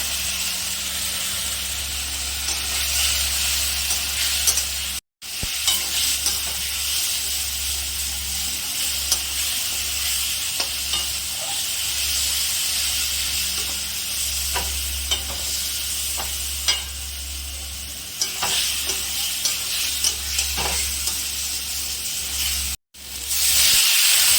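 Steady loud sizzling of cumin and turmeric powder frying in a pan, with occasional stirring scrapes, running continuously with two brief dropouts.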